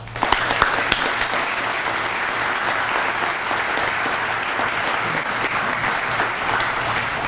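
Sustained audience applause fills a fire department promotion swear-in ceremony, steady clapping from a crowd held at an even level throughout with no talk over it.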